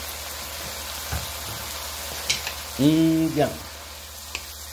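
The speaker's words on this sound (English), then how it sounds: "drizzle just a little bit more olive oil in" Olive oil sizzling steadily as it is drizzled into a hot pan while cooking ribeye steak beef fried rice, a constant crackling hiss. A voice briefly speaks over it near the end.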